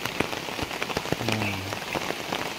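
Heavy rain pours steadily over a river, Sungai Calir, near a simple garden, a dense close hiss with scattered drop patters, and a person speaks briefly.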